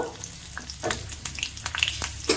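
Three dried red chilies and two green chilies sizzle in hot oil for a star fruit chutney, a steady crackling fry with a few sharp pops and stirring clicks scattered through it.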